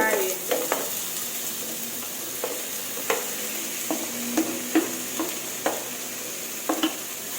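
Wax gourd stir-fried in a pan, a bed of gentle sizzling broken by repeated sharp spatula scrapes and taps at irregular intervals, close and clear.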